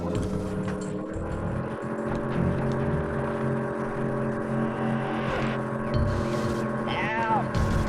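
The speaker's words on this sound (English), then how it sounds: "Nathan's laptop fan strikes back." A laptop cooling fan whirs loudly, a steady droning hum with tonal overtones running the whole time beneath faint background sounds.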